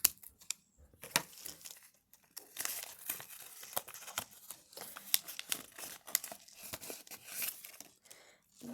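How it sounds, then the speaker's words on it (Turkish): A blind bag package is torn open by hand, giving a run of close, crisp plastic crinkles and rips in quick, uneven bursts with no talking. "İkinci paketimi açıyorum."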